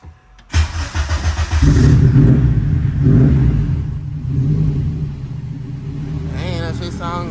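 Car engine with an added exhaust resonator starts up and settles into a deep, steady idle rumble, close by, with a brief rev and a voice murmuring faintly near the end.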